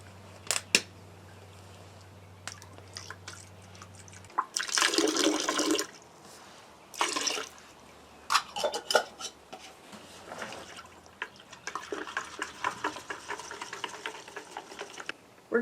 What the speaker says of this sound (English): We're adding the soap and this bleach water to the water we are getting to wash out the glass and the